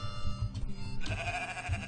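Sheep in the indie video game Moirai bleat repeatedly in wavering, nasal calls that rise and fall over a humming game soundtrack, loud and up close.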